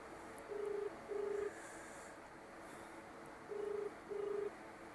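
A phone being dialed to place a prank call: four short, evenly loud DTMF keypad tones in two pairs, separated by a pause, over a faint hiss, with no talking.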